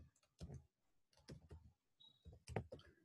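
Someone types on a computer keyboard in short bursts of crisp, close clicks separated by brief pauses, alone in a quiet room.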